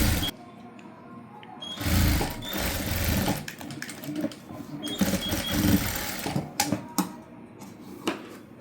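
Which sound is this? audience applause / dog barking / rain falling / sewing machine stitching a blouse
sewing machine stitching a blouse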